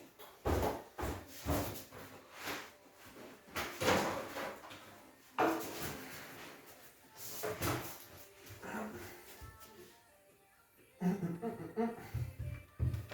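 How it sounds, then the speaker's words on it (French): A Spaceo wardrobe door is handled and set into position during assembly, giving a series of wooden knocks, thumps and scrapes in bursts with short pauses, and a voice talking between them. "si je prends la porte pour la positionner"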